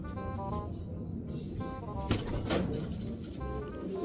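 Racing pigeons coo softly in a loft, with a couple of brief bursts of wing flapping midway and low background murmur throughout.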